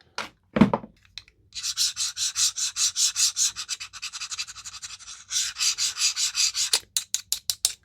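Blade of an Oknife pocket knife scraped repeatedly in a scratch test, producing loud, close rasping strokes in quick rhythmic bursts, a long steady run of scrapes, then a few sharp separate scratches at the end.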